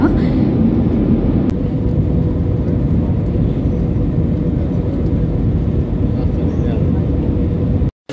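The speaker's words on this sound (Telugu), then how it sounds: "సో ఫైనల్లీ మా ఫ్లైట్ అయితే కిందికి ల్యాండ్ అయితే అవుతుందన్నమాట." Steady loud roar of an airplane landing at Bagdogra, a broad continuous engine rumble that holds for several seconds before cutting off abruptly at the end.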